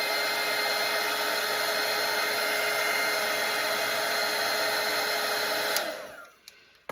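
Hair dryer blowing steadily on a watercolour painting of a Santa face, a loud continuous whir that holds for several seconds and then clicks off, winding down into quiet.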